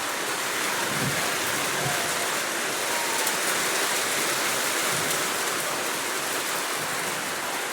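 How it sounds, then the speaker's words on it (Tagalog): Heavy rain pours steadily onto a car, heard from inside the vehicle, a dense continuous hiss with occasional faint low thumps beneath it. "Umulan na."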